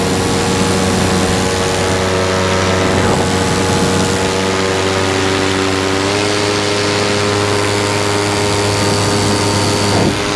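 OpenPPG SP-140 electric paramotor at full throttle, a loud, steady whine and propeller rush with layered tonal hum, heard close and sustained without a break, pitch shifting slightly midway.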